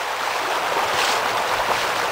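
Flood water from high water near a park pours over a road with a strong current, a steady, loud broadband rush of flowing water without pause and with no voices.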